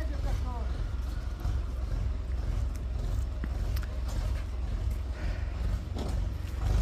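A farm tractor on a cattle farm pulls away with a continuous low, throbbing engine rumble that holds steady throughout, with some voices talking nearby.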